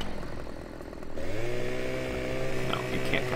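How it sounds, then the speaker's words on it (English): Husqvarna chainsaw in the Farming Simulator 2015 video game, a low engine idle that revs up after about a second into a steady, loud buzzing drone with harmonic whine, heard alone. "Let's just buy a chainsaw real quick here"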